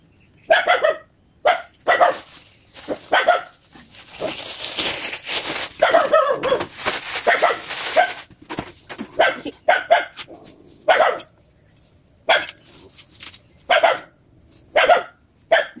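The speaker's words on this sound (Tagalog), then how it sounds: "Pasensya na sa ingay, maingay yung mga aso." Several dogs bark in sharp, repeated bursts at a rural rabbit farm, some yipping, loud and nearby, with brief pauses between volleys.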